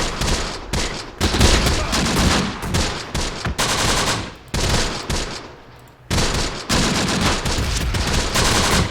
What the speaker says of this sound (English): That was a pretty amazing salvo.